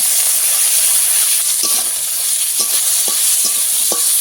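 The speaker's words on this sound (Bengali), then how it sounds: "টমেটোও ভালো করে ভেজে দেবো" Loud continuous sizzling of chopped tomatoes frying with garlic in a pan, with a few scraping stirs of a utensil near the end.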